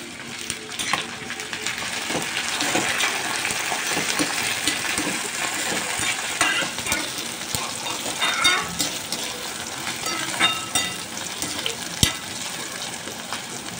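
Chopped tomatoes frying in a pan with onion, garlic, green chili and cumin for a village-style amaranth leaf dish, a close steady sizzle with occasional stirring scrapes and crackles.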